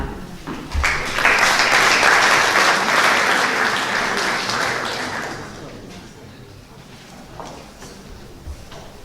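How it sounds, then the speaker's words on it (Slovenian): Audience applause at a contract-signing ceremony for local associations in Brežice, Slovenia, loud and dense at first, then gradually thinning and fading, with a few scattered claps at the end. "Dajmo še enkrat en lep aplavz za vse skupaj"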